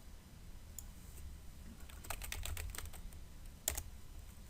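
A quiet computer keyboard clicks in a few short bursts of keystrokes, close by, with low room noise between the taps and no talking.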